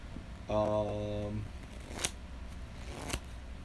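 Deck of Magic cards being shuffled by hand in a room, a quick riffle burst followed by a couple of sharp taps, fairly quiet and close.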